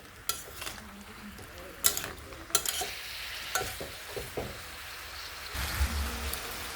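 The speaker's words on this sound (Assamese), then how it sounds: "আৰু এতিয়া মই কোমোৰাৰ চব্জিখিনি নিমখ হালধিৰ সৈতে অলপ সময় ভাজি ল'ম।" Pumpkin with salt and turmeric sizzles in a pan while a utensil scrapes and clatters in irregular stirring strokes, louder bursts of frying toward the end.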